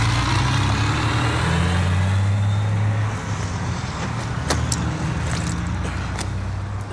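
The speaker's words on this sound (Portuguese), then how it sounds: "É o caminhão com gás?" A gas truck's engine idles with a deep, steady rumble in Call of Duty: Modern Warfare, loud and close. Sharp game sounds cut in briefly near the end.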